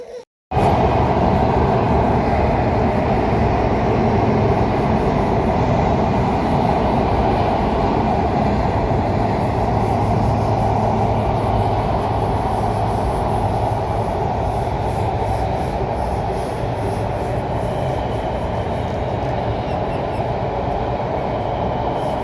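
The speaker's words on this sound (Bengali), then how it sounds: "সকালবেলা হচ্ছে ট্রেন গেল" A loud, continuous rumble of a train rolling past close by, wheels and carriages roaring steadily for the whole stretch.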